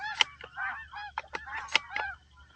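A flock of snow geese during a spring hunt honks in a loud, overlapping chorus of nasal calls, several birds calling close by in quick succession.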